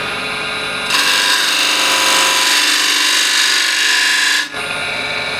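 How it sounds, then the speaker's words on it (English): A 10mm spindle gouge cutting a spinning wooden bowl on a lathe, giving a loud, continuous hissing scrape that starts abruptly, holds steady for about four seconds, then stops, with the lathe's hum around it. "before I remove the scribe line here, I'll use a 10mm spindle gouge."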